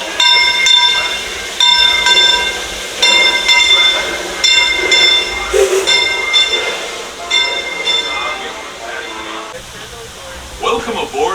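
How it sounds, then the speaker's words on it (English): The Disneyland Railroad train boards passengers and departs on a rainy day at Disneyland, steady mechanical rumble with ringing bell-like tones and occasional wheel squeal, under announcements and nearby talk. "Welcome aboard the Disneyland Railroad."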